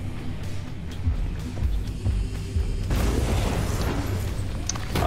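Fire Blossom ability in the video game Predecessor, heard as a rolling, booming burst of fiery explosion noise over steady game sounds, loudening into a broad roar partway through.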